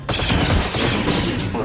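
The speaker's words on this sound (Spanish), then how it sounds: "Disparando." Blaster fire crackles in Star Wars Jedi: Survivor: a loud, dense burst of rapid shots lasting the whole moment, close and continuous.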